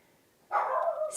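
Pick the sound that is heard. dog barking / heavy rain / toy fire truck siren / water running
dog barking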